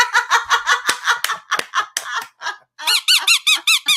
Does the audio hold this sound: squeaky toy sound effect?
yes